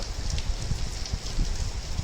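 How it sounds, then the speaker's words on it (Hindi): Heavy rain pours steadily, a dense continuous hiss with scattered louder drops spattering nearby. "रियल में भाई तगड़ी वाली बारिश हो रही है"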